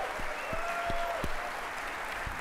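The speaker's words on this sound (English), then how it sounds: "I wanna have a huge round of applause for our wonderful guests and these two founders over here." Crowd applause at a Bitcoin event, a dense steady wash of clapping heard at a moderate distance, with a few sharper low thumps and faint whistles mixed in.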